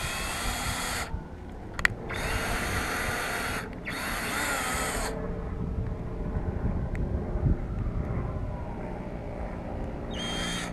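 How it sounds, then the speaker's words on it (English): A power drill pre-drilling a hole in wood for a gate whines in three short bursts, the longest lasting a few seconds, then stops, leaving quiet room noise with faint knocks. "all we're going to do is just pre-drill a hole here."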